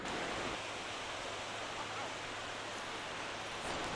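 Water rushes over an old dam in a steady, dense roar heard from right on top of the structure, loud and unbroken throughout.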